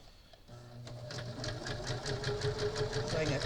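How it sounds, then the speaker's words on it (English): A sewing machine stitches a seam on a fabric face mask, starting up and settling into a fast, even, close mechanical rhythm that grows slightly louder. "I will give that a little seam"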